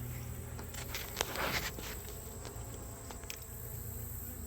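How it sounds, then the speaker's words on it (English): A faint, steady hum of honey bees buzzing close by at open hive frames, continuous over low background noise, with a few soft taps. "these bees are not stinging us like Bob's bees"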